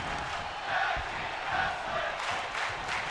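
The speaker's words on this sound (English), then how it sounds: "And the crowd here loving tag team wrestling for sure." An arena crowd in the WWE 2K22 wrestling video game, watching a women's tag team match, roars and cheers in a steady wash of sound that swells and eases in waves, loud and continuous.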